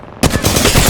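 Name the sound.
gunfire in the video game Apex Legends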